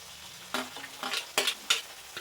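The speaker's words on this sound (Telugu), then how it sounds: "టమాటాలు, పచ్చిమిరపకాయలు వేసుకుంటున్నాము. ఇది కొంచెం ఫ్రై అయిన తర్వాత మిగిలిన వేద్దాం." Chopped tomatoes and green chillies fry in a pan for a fish curry: a steady sizzle broken by several scraping stirs, close up with no talk.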